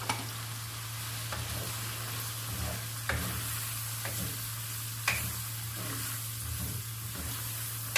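Mutton liver frying in a pan with green chilies and yogurt, a steady sizzling hiss broken by periodic scrapes and stirs, close and continuous with no talking.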